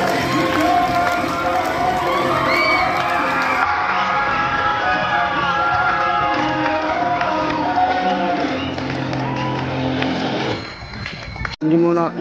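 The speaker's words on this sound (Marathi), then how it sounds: "छान जोरदार टाळ्या सर्वांनी अभिनंदन करायचे आहे." Children at a primary school sports competition opening cheer and shout in a loud, continuous crowd din, with voices rising over it and a brief dip near the end.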